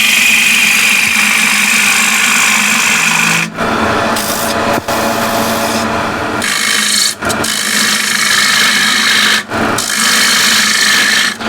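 The right wing of a gouge makes a scraping cut on a walnut and ash bowl spinning on a lathe, giving a loud, sustained rasping scrape over motor hum, broken by a few short pauses, with no speech.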